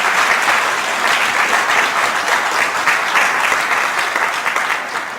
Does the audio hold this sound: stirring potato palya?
no